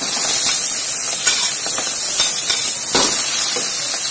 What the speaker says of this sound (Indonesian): tumis bumbu halus. Yang ini dulu ya, yang bawang dan garam.